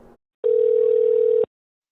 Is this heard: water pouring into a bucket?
no